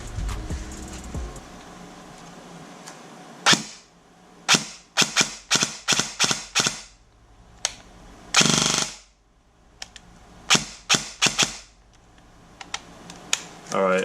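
Airsoft MP5 fitted with a Gate Aster trigger unit and powered by an 11.1 V LiPo battery fires in a string of sharp semi-auto shots and short bursts, loud and close, with quiet pauses between them.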